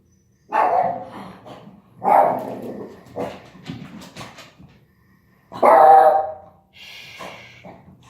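A dog barks and whimpers in several bursts, yipping loudly with pauses between, close by and with no talking over it.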